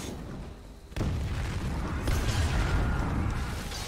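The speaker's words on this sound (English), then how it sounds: "Explosions are coming from." Explosions boom in Skyrim Special Edition during a modded Thieves Guild fight with a Daedra and a fire mage: a sudden loud blast followed by sustained rumbling and a second surge of crackling impact noise.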